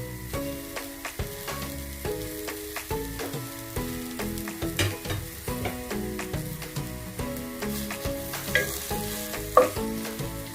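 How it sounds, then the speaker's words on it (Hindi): A medium-sized half onion frying toward light browning in a pulao pot, with a steady sizzle and repeated stirring scrapes running throughout, close and moderately loud with no voices. "तकरीबन ये भी हाफ अनियन है, मीडियम साइज का। इसको हमने हल्का सा ब्राउन करना है।"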